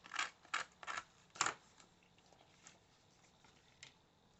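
A handheld distressing tool scrapes along the edge of a paper envelope on a scrapbook layout: a few quick, close, soft scuffing strokes in a short burst, then fainter scattered scrapes in quiet surroundings.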